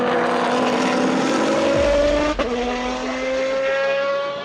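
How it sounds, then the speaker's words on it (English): Race car with a 6-litre naturally aspirated V12 derived from the Ferrari Enzo, a GT car: a loud, steady high engine howl with a brief gear-change dip midway, continuous and close, no voices. "A 6-litre naturally aspirated V12 derived from the Ferrari Enzo."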